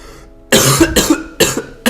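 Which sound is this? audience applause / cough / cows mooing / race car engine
cough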